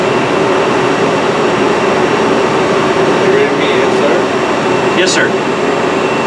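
The main spindle of a Citizen M20 Type III CNC Swiss lathe runs at 2500 with a loud, constant machine hum and whir. A short spoken reply is heard over it.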